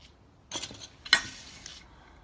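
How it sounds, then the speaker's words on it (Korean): Dried ginger being crushed into small pieces in a kitchen, two short crunchy crackling bursts close by, the second sharper, followed by faint rustling in quiet surroundings. "말린 생강은 이렇게 잘게 부셔서 쓰면 됩니다."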